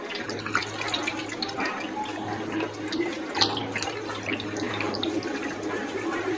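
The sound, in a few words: pouring boiling water over macaroni in a casserole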